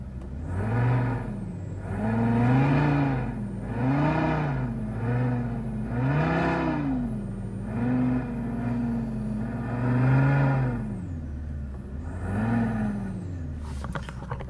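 A simulated sports car engine sound, played in a small city car, revs over and over in loud, close surges that rise and fall in a steady rhythm, with no talking.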